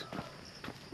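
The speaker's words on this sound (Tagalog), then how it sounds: "Tapos may kabayo dito guys" A horse's hooves clip-clop in a few spaced, distinct hoof falls close by, with faint background voices.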